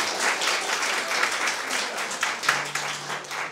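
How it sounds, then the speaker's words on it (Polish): A hall audience at a young guitarists' concert in a Końskie cultural centre claps warmly, a thick continuous wash of applause with no speech on top. "Wielkie brawa dla artystów,"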